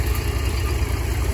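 A brand new tractor in a village field setting runs at a steady idle, giving a constant low rumbling thrum with no speech over it.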